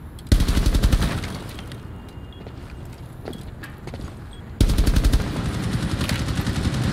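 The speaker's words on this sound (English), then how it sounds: "Yeah, shoot his gun." Rapid automatic gunfire in a video game, fired in two long loud bursts with a quieter stretch of scattered shots and thuds between them.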